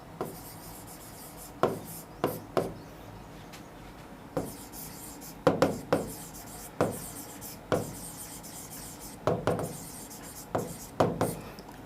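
Pen or chalk scratching out a maths linear equation, a series of short, sharp, close strokes in irregular bursts separated by quiet pauses.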